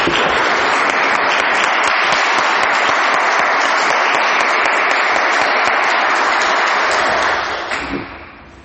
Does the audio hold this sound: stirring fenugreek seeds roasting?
no